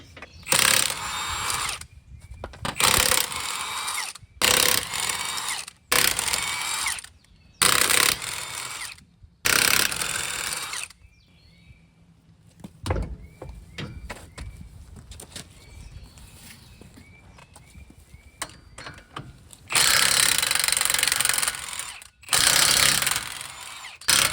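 Wheel bolts being torqued down with power and hand tools while swapping wheel spacers, heard as repeated loud bursts of impact-gun rattling separated by short pauses, with quieter ratchet clicks in the middle and no talking.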